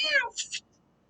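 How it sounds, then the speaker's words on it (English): A cat gives one short, clear meow up close, followed by a couple of quick, fainter chirping calls before falling quiet. "go little pussy kitty, go away."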